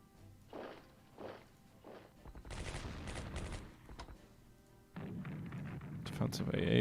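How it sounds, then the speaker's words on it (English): Anti-aircraft gunfire in a WWII strategy game: a few soft rhythmic thumps, then bursts of rattling flak fire that grow louder and denser toward the end, with a voice talking over it. "Defensive AA fire."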